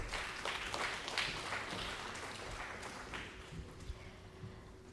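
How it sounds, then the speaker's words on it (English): Applause from a seated audience at a research corporation event, a fairly faint, even patter of clapping that gradually thins out, with a steady hum underneath. "Round of applause, please."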